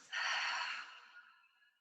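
A single breath in yoga practice, drawn in through the nose and released through the mouth, sounding as a close, fairly loud airy exhale that fades gradually over about a second and a half.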